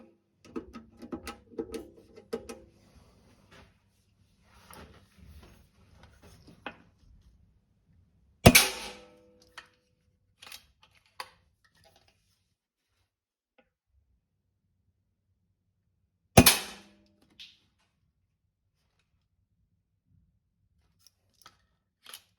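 A BSA R12 CLX air rifle fires .22 pellets over a chronograph: two sharp, loud shots about eight seconds apart, each standing alone in near silence, with faint handling clicks and rustles before the first.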